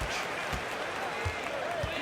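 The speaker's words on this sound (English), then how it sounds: "The crowd here in anticipation of their home team, Cavaliers, in an interconference battle here in Cleveland." Simulated arena crowd in the NBA 2K basketball video game, a Cleveland Cavaliers home game: a steady loud crowd roar with scattered low ball bounces under it.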